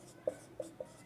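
Pen or marker strokes while writing squares of numbers in a maths lesson, three short taps and scratches spaced apart, close and fairly quiet.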